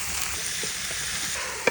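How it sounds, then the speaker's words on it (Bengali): Chopped mixed vegetables frying in soybean oil with onion and green chilli, a soft, even sizzle close by with a faint stir and a small clink near the end, no voices. "পেঁয়াজ আর মরিচ হালকা ভাজা হয়েছে, এখন কুচাইনা সবজিটি দিয়ে দেবো।"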